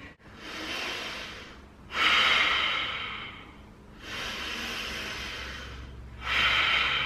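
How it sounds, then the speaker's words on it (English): Deep, slow breathing during a yoga boat pose, heard close and alone: three long, hissing breath cycles, each rising into a forceful, airy inhale or exhale before easing off. "Take some deep breaths here."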